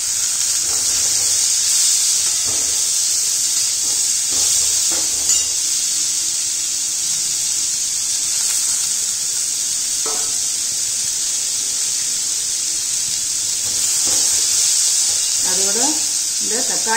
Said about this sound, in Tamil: இப்போ அந்த திருத்தி வச்ச பரங்கிக்காயை போட்டு நல்லா வதக்கிக்கணும்.